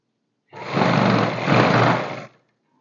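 A sewing machine runs stitching a skirt suit, a close, loud whirring burst of about two seconds with a slight dip midway, surrounded by quiet.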